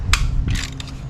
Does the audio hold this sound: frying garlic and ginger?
no